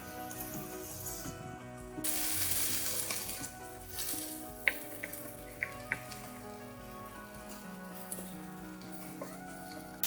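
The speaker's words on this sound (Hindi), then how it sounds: "इसी तरीके से आपने बहुत एहतियात से कबाबों को फ्राई करना है।" Kebabs sizzle as they fry in a pan for a kabab karahi, with a louder burst of frying and a few sharp clicks and clatters from turning them. No one speaks.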